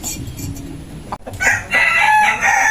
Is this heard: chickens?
yes